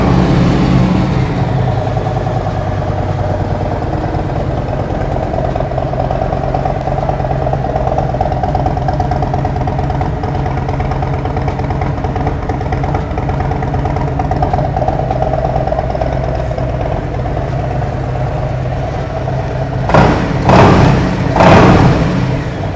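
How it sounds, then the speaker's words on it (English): A 2023 Harley-Davidson Street Glide ST motorcycle idles through aftermarket exhaust pipes with a loud, steady, deep rumble held close for about twenty seconds, ending in a couple of sharp throttle blips. "now we're gonna fire it up and see what these pipes sound like"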